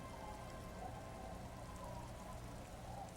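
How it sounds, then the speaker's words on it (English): Freezing rain and wind in the video game Disco Elysium: a steady, soft hiss of falling rain with a low windy rumble, continuous and fairly quiet. "He turns his swollen face against the wind, freezing rain battering his cheeks."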